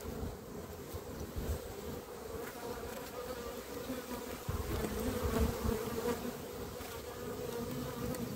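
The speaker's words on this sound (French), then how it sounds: "Les abeilles d'été vont prendre la relève sur les abeilles d'hiver qui vont bientôt mourir." Honeybees at a hive make a continuous, steady, close buzzing drone that swells slightly partway through, with no voices.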